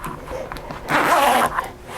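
A zipper pulled closed on a freshly sewn fabric zipper pouch, a single brisk rasping zip of about half a second, close and fairly loud, with quieter handling rustles around it.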